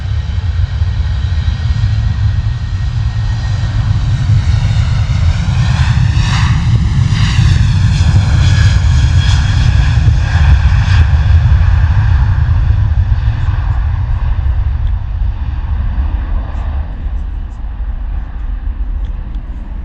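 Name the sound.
TUI Boeing 787 Dreamliner taking off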